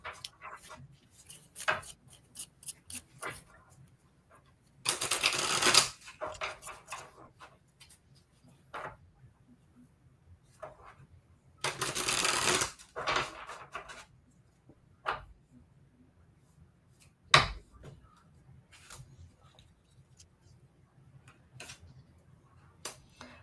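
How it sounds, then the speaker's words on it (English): Oracle cards being shuffled by hand, with two longer riffling bursts of rustling among scattered light taps and flicks, close and quiet with no talk. "just let me do a couple little shuffles here. So pardon my shuffle."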